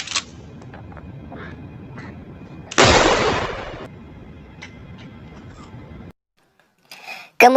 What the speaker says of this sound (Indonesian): di sana Oco menembak Bejo hingga tewas